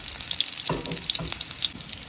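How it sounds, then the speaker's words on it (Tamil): Two onions frying in oil in a pan, a close, steady sizzle with a few spattering pops and crackles. "சும்மா ஒரு 2 வெங்காயம் போட்டு நல்லா செவந்தடி"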